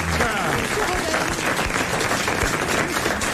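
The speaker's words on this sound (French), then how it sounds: "Et vous allez l'applaudir immédiatement" A studio audience on a French television talk show bursts into lively applause, a dense, close crackle of clapping with voices mixed in underneath.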